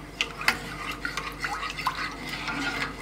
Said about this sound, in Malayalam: നമുക്കത് ഇളക്കി കൊടുക്കാം.